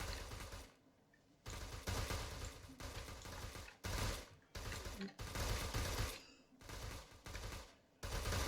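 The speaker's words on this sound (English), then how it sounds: "slowly the gunfire is dying down" Video-game gunfire in an ARMA 3 battle against orcs in a forest, using a Warhammer-style war mod: loud, dense bursts of automatic fire broken by short quiet pauses, repeating several times.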